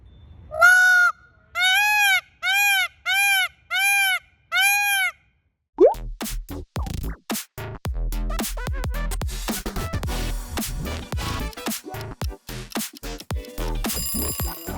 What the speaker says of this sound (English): That was a peacock.